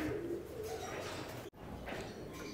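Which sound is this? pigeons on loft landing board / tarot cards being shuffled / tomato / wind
pigeons on loft landing board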